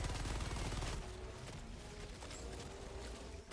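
Sustained automatic fire from the Stalwart machine gun in Helldivers 2, a loud rapid rattle that is heaviest at the start, then continues slightly softer with mechanical clatter.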